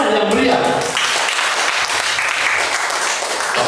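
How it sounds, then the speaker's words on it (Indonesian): An indoor audience at a health and beauty product presentation applauds loudly and continuously, a dense, steady clapping that fills the whole stretch, with a voice faintly audible at the start. "kita apresiasi diri kita semua dengan aplaus tepuk tangan yang meriah."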